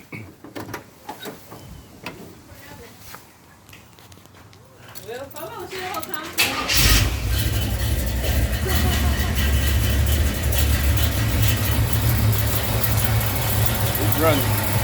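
A car with a bad water pump sits quiet with a few faint clicks, then its engine cranks to life and settles into a loud, steady idle close by.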